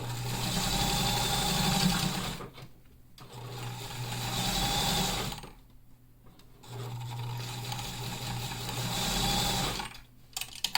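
A sewing machine stitches a cloth medical mask, a close, steady motor whir with a fast needle rhythm running in three bursts separated by short pauses.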